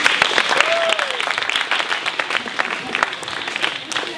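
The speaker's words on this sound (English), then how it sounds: "After a warm round of applause," A theatre audience at a live improv comedy show breaks into a warm round of applause, dense continuous clapping filling the room at a steady loud level throughout, with a brief whistle-like tone rising over the clapping early on.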